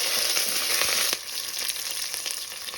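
Chana dal, urad dal, green chillies and curry leaves frying in hot oil for poha, a steady close sizzle that pops and crackles with a brief sharp flare near the middle.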